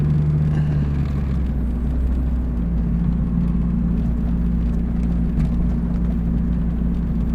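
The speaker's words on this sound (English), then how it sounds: "It's so weird hearing a 4-cylinder noise come from this car." A 4-cylinder engine idles in a 1982 Pontiac Firebird that sat abandoned for 25 years, a steady low droning rumble with a constant hum, close and continuous with no talk.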